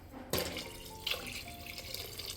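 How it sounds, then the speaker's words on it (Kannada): Water pours into a pot for cooking rice, a close, full splash that begins abruptly and runs steadily for about two seconds, with the pitch shifting slightly as the pot fills. "ನೀರು ಹಾಕ್ಕೊಂಬಿಡೋಣ"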